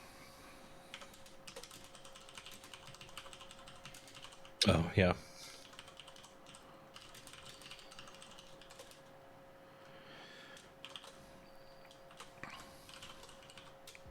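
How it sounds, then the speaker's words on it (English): Computer keyboard typing during a coding session, mostly soft scattered key clicks with one louder clatter of keystrokes midway and a few later taps, under a low steady background hum; someone briefly speaks. "I don't have to keep typing all this over and over again."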